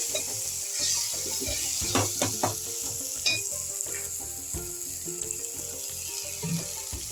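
Taro and tomato fry with spices in a pan, a steady sizzle broken by repeated spatula scrapes and clinks against the metal as the mixture is stirred, close and moderately quiet, no speech.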